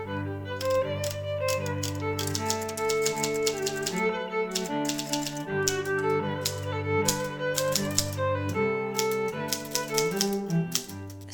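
Manual typewriter being typed on continuously, crisp rapid key strikes in irregular bursts with occasional pauses, close and clear with no voices.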